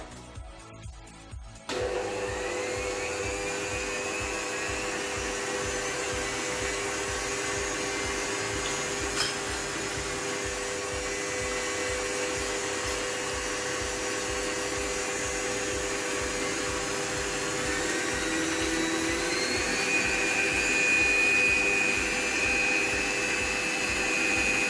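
An electric mixer beating ingredients for a moka cake with butter cream and coffee extract, switching on after a brief quiet start and then whirring steadily and loudly up close for the rest of the time, with no talking.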